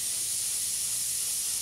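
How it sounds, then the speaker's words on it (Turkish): A steady, loud hiss of coolant boiling and bubbling out of an overheating Cadillac V8 engine, continuous and close, with no voices. "Nasıl fokur fokur geldi."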